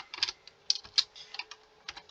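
Quick, irregular clicks of keys being typed on a computer keyboard, close and crisp with short pauses.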